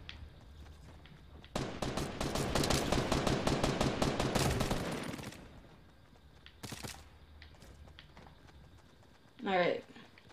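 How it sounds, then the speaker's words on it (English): Pump shotgun fire in the Fortnite battle royale game, a long rapid burst of loud gunfire and impacts lasting several seconds, then a single shot and a short sweeping effect, with game sounds behind. "Pump shotgun."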